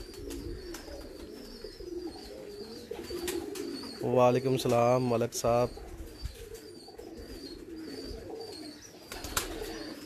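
Pigeons kept by a breeder coo nearby in a short rhythmic burst of several throaty calls in the middle, with people talking before and after.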